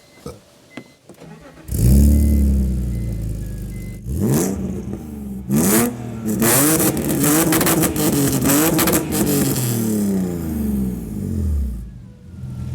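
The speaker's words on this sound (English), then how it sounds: "give us a rev check" A custom-built car with a stainless exhaust starts and revs repeatedly, rising and falling in sharp bursts, loud and close, then settles to a rough idle before cutting off.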